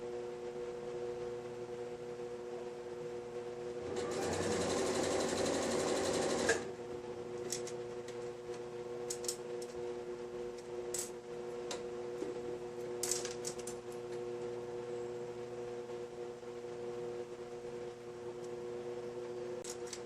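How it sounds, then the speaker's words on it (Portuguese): A sewing machine stitches a blouse in one brief burst of about two and a half seconds of rapid, close mechanical whirring, followed by a quiet hum and a few small clicks. "E você vai costurando."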